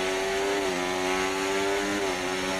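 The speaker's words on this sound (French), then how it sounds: "Oh, le moteur, c'est atroce." An F1 car engine in a racing video game drones steadily at a constant, muffled buzzing pitch, dipping slightly twice and holding near the same note without climbing.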